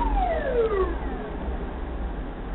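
An ambulance siren passes after a road accident involving a bus, one falling wail sweeping down in pitch as it goes by, heard through a steady engine and traffic hum.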